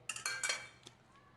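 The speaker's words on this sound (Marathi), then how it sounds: "मिक्सर जार मध्ये घेते, त्यामध्ये हे शेंगदाणे टाकून देते" Peanuts tumble into a mixer jar with a quick cluster of bright, hard clinks and rattles, close and fairly faint, settling within about a second.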